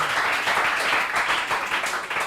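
Applause from an audience at a school show where young pupils performed, a dense steady patter of many hands clapping continuously throughout without a clear break.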